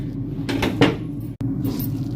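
A cooking pan lands on a stove with a single metallic clunk partway through, over a steady kitchen background hum, followed by a brief rattle.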